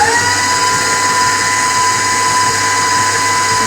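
A stand mixer whisks meringue at high speed while small cubes of unsalted butter are added for a mocha cake's buttercream, giving a loud, steady, high motor whine close by.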